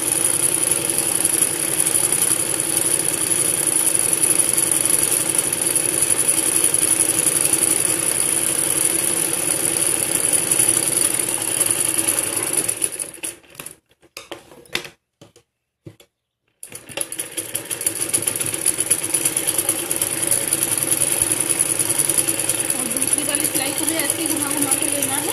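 A sewing machine stitches a fancy salwar with a fast, continuous mechanical whir and rattle. It stops briefly in the middle with a few clicks, then resumes its steady running.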